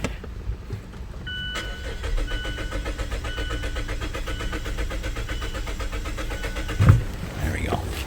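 A 2017 Mazda CX-5 with a 2.5L engine, suffering a long crank time, cranks with a steady rhythmic whir for several seconds before a brief thump; a voice speaks faintly underneath.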